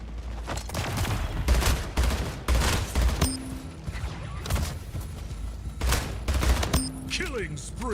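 Rapid bursts of battle rifle fire in the arena shooter Splitgate, loud and close, coming in repeated clusters with short gaps, mixed with game effects and occasional speech.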